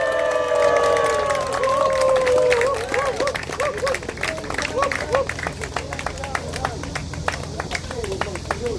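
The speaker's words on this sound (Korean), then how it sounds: "우리 애국 중창단 앞으로 올라오실 때요, 큰 박수로 환영해 주시기 바랍니다" Applause and crowd noise from a gathered audience at an outdoor rally, welcoming a patriotic choir; sustained voices over a song-like tone at first, then scattered claps and babble continue.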